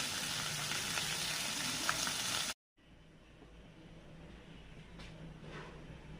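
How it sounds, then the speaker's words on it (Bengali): Fish frying in a pan, a continuous hissing sizzle that cuts out briefly and resumes more quietly, close, with no talking. "আমি এই মাছগুলো ভেজে নিচ্ছি, ভুনা করব।"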